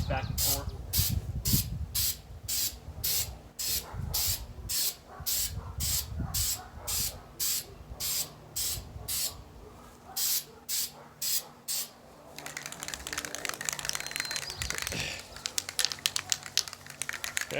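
Rustoleum Pro Grade bed coating sprays from an aerosol can onto a skid plate in rapid rhythmic hissing bursts as the can sweeps back and forth, then a longer continuous spray near the end, close and loud.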